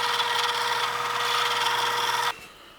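A power drill bores 1/4 inch holes in a wooden shop project, a steady loud whine that holds for over two seconds and then cuts off abruptly, leaving quiet room tone.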